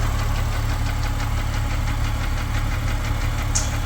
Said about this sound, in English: Up there somewhere, it's a definite bore score.